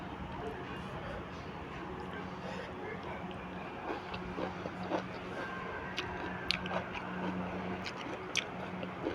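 Close chewing and crunching while someone eats a spicy Thai pounded long bean salad, with soft squishy bites and occasional sharper crunches repeating throughout over a steady low background hum.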